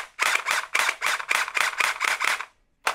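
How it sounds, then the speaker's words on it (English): An X2 Glock gel blaster fires rapidly, about nine sharp cracks in quick even succession with the slide cycling back on each shot, close and loud, followed by a short pause and one more shot. "So it actually pulls the slide back every time you shoot."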